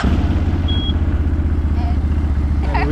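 Quad ATV engine started with a key, settling into a loud, steady, throbbing idle close by, with a voice speaking briefly over it.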